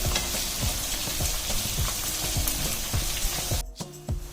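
About a dozen dried mushrooms sizzle and fry in a claypot for claypot-style tofu, a dense, close crackle with soft stirring scrapes throughout and a brief dip near the end.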